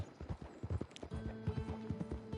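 Horse hooves clip-clopping in the Red Dead Redemption Online video game, a steady trotting rhythm of close, fairly loud hoof strikes with a low droning tone running beneath.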